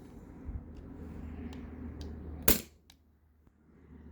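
A modded T4E HDP50 CO2-powered launcher on a 20 oz tank gives one sharp, close pop after a low hum, then a couple of faint clicks, with no voices.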